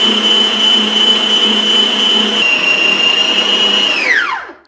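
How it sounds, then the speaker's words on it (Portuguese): Stand mixer whipping cream at medium speed, a loud steady motor whine that holds, then spins down as the mixer is switched off, with no talking. "subindo a velocidade da minha batedeira até médio"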